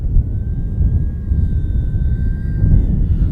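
An FMS Kingfisher RC airplane flies in strong wind, its motor holding a steady, loud whine over rough, heavy wind rumble.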